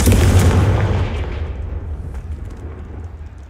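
A Confringo blasting spell in Hogwarts Legacy gives a loud, deep explosive boom at the start, followed by a long rumbling decay that fades over a few seconds.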